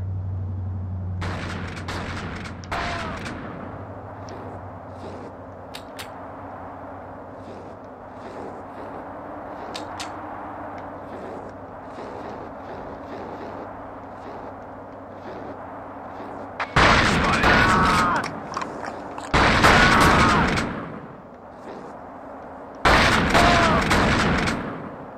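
Sniper rifle fire in The Thing, a few loud, separate sharp cracks with echoing tails that break through a quieter, low background of game ambience.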